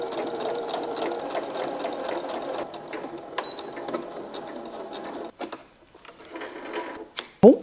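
Sewing machine running a test seam on a small fabric scrap, with a steady close whirring stitch for about five seconds before stopping, followed by a few handling clicks and knocks.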